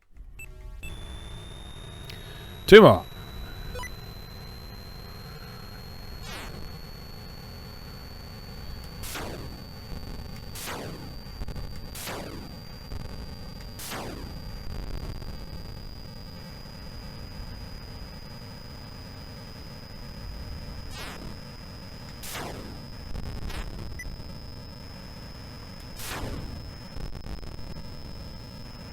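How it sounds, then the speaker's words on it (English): Sharp electronic beeps from the video game Rescue on Fractalus repeat at an uneven pace of roughly one every two seconds over a quiet hum and a thin, sustained high tone, with one louder burst near the start. "I heard a beep beep beep beep."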